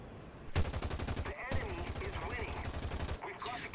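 Rapid automatic gunfire in a video game, two long bursts of fast, evenly spaced shots with a short gap between, loud and close, followed by a brief quieter tail.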